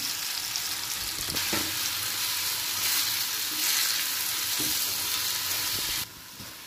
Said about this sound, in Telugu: ఇప్పుడు మామిడికాయ పచ్చడిని కొద్దిసేపు తిరవాతలో వేసి ఒక 2 మినిట్స్ అలా బాగా వేయించుకున్నాము